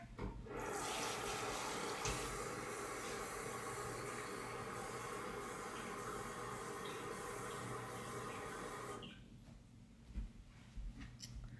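Water pours steadily into a Pampered Chef Quick Cooker as rice and water are measured for stew, a continuous close splashing hiss that stops near the end, followed by a few faint clunks.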